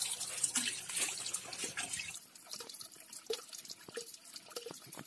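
Warm water runs steadily from a tap during kitchen prep for grilled free-range chicken, a continuous splashing stream that sounds heavier at first and then settles into a lighter trickle with scattered drips.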